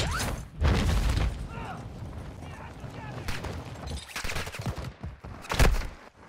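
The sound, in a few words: gunfire in a video game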